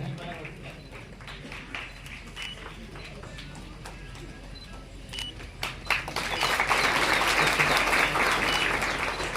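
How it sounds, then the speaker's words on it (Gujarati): Audience applause at a Gujarati award ceremony honouring dignitaries, steady clapping from a seated crowd that swells louder in the last few seconds, with murmuring voices mixed in. "તાળીઓનો ગણગણાટ તો ચાલુ રહેવો જોઈએ"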